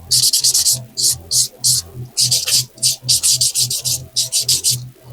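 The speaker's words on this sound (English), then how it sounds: "And now I'm just going to buff it." A practice nail gets buffed with quick, repeated bursts of bright rubbing strokes in uneven clusters. The sound is close and crisp, with no talking heard.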